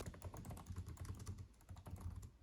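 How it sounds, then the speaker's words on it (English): Rapid, irregular key clicks from typing on a MacBook Pro laptop keyboard (13-inch M1 or 14-inch M1 Pro), close and fairly quiet, with no voices over the steady patter. "I think this has the perfect amount of resistance, the perfect amount of key clicking."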